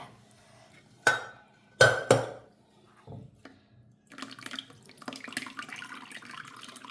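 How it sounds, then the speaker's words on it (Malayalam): Water is drained from a pot of cooked dried tapioca, with a few sharp metallic clanks of the pot followed by pouring and splashing water into a sink, close by. "വെന്ത് നമുക്കിത് വാർത്തെടുക്കാം."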